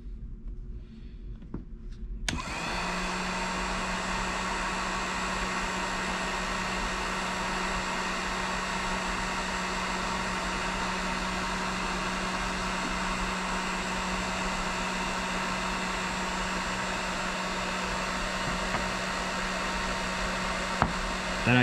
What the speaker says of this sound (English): I've got a heat gun over here. I'm going to heat up that glue until it melts